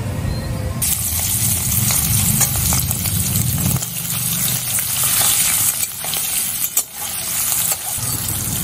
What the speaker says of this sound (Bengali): সেই মাছগুলো এই তেলের মধ্যেই দিয়ে দেবো